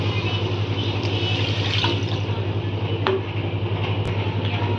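Water poured into a pan for tomato rasam gives a continuous, fairly loud splashing rush close by, with a couple of faint clinks, and no one talking.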